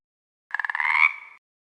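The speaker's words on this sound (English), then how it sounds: "Toad." A toad gives a single close croak lasting about a second, starting as a rapid pulsing trill and smoothing into a steady buzzing tone before cutting off, alone against silence.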